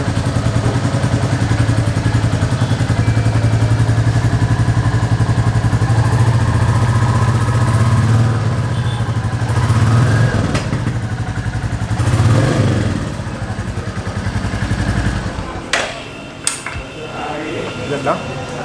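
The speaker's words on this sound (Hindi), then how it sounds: "हम इस बाइक को स्टार्ट करके देखेंगे" A stock-exhaust Royal Enfield Classic 350 motorcycle starts and settles into a steady, close, loud single-cylinder idle, with a brief rev and some mechanical clatter toward the end.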